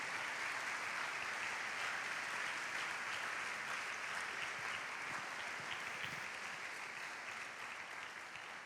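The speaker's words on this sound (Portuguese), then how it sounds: "Aplauda o Senhor, em nome do Senhor Jesus" A church congregation claps together in worship, a steady wash of applause at moderate distance that continues evenly and fades slightly toward the close.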